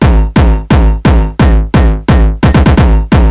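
Heavy, booming kick drum hits with a thick layered punch from three kicks layered together, struck in a steady pattern with a quick cluster of hits near the end, loud and up front.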